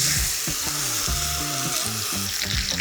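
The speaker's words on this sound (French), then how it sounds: "on va la poser délicatement dans notre poêle chaude" A bone-in Blonde d'Aquitaine rib steak, salted beforehand, sizzles loudly in a hot frying pan, a dense steady crackle close up and alone, without any voices.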